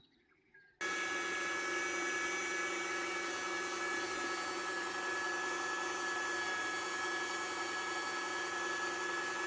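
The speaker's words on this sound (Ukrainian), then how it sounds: "Через м'ясорубку пропускаємо" An electric meat grinder mincing pork and chicken runs with a steady, loud motor whine and hum that starts abruptly after a brief quiet moment and continues unchanged.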